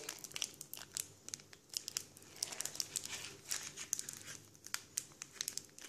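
Foil booster card pack wrappers crinkle and tear open up close, a continuous rustling crackle with sharp crisp snaps scattered throughout, fairly quiet.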